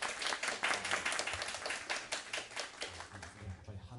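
Audience clapping at a jazz orchestra concert, welcoming the drummer onstage: a dense, steady patter of many hands held through the whole stretch at moderate level, with low voices murmuring underneath.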